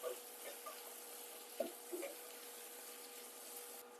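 Mutton mandi with capsicum gets stirred in a pan, with a faint, steady sizzle and a few soft scraping knocks of the spoon against the pan.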